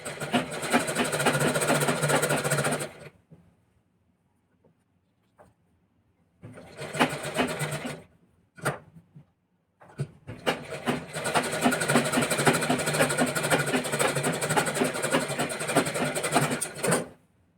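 A sewing machine stitches fabric from an old sari, running in three bursts: a long run, a pause, a shorter run, a quick blip, then a long steady stretch, close and fairly loud with near silence between.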